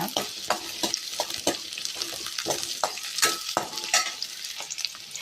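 Chicken frying in a pan, a bright loud sizzle with quick rhythmic stirring scrapes and clinks from a spatula, close up and without voices.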